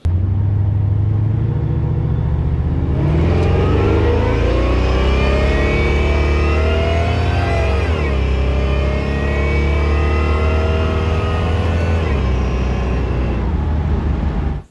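A supercharged Oldsmobile Cutlass on 24-inch wheels pulls hard, its engine rumbling loud and close before climbing steadily in pitch through a long acceleration, then fading near the end.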